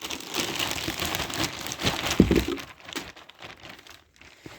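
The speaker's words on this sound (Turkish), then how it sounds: "Hemen bu poşetimi de boşaltıyorum." Plastic shopping bag crinkling steadily as it is emptied, a continuous close rustle with a brief thump midway before fading to quieter sporadic crackles.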